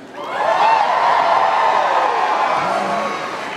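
A graduation ceremony audience at a university commencement cheers and whoops, a broad sustained roar of voices that swells quickly and then slowly fades.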